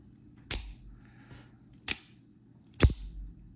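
A Demko AD20.5 folding knife snaps open three times, each a sharp, close metallic click separated by short pauses in a quiet room.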